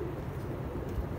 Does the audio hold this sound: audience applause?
no